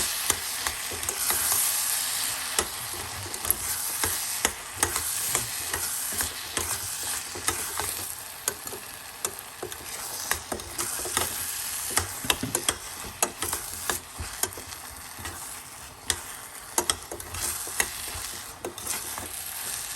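Paprika is stirred into gravy in a hot pan, a steady sizzle with repeated scraping and tapping strokes of the spoon, close and fairly loud, with no talking.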